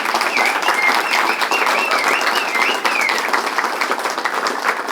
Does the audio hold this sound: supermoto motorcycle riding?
no